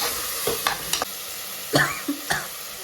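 Turmeric powder frying in a pan, with a steady close sizzle under a few sharp scraping strokes of a spoon stirring, spaced unevenly over a few seconds.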